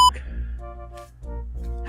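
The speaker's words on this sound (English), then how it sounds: "I've got a beep button." A censor beep fired from a beep button during a casual gaming session, a short tone near the start, followed by stretches of muffled voices and music-like tones.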